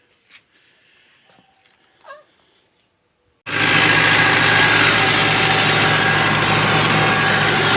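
Fiat 640 tractor engine idling loud and close, a steady rumbling run that kicks in abruptly after a few seconds of faint background sounds.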